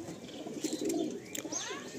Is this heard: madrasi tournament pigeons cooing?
yes